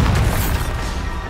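A Bombarda blasting spell going off in Hogwarts Legacy, a loud, dense booming burst with low rumble that carries through the whole moment without a break.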